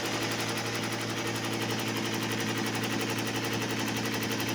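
An embroidery machine stitches half-sleeve markings with a continuous, even mechanical chatter and hum that stays steady and close throughout, with no voices.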